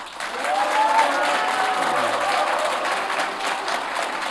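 Citizens in the audience gallery of a Gunpo mayoral candidate debate hall break into sustained applause mixed with scattered shouts and cheers. The clapping stays loud and dense throughout, easing slightly toward the end.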